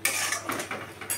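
A utensil scrapes and clinks against a pan while spice masala is stirred and sautéed in oil, with a few quick metallic strokes close up over just over a second.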